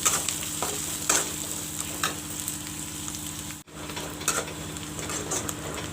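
Chopped onions fry in oil for a mutton curry, with a continuous close sizzle and a low hum in the kitchen. Intermittent spoon scrapes and clinks come against the pot, with a brief dropout midway.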